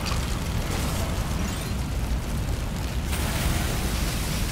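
A sprinkler system going off in Lego Batman 3, a dense continuous hiss and spray that stays loud and even for several seconds before thinning slightly near the end.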